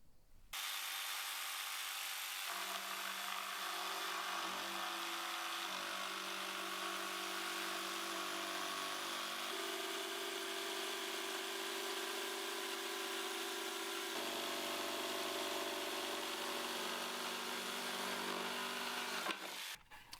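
Power saw cutting through wood, a loud continuous whine with shifting tones as the blade works the piece, sustained for nearly twenty seconds before cutting off sharply.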